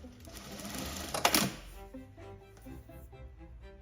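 A JAKTEC 9990 straight stitch industrial sewing machine runs briefly, a rapid mechanical stitching chatter with a sharp burst midway, then trails off into light rhythmic clicks, moderately close and alone.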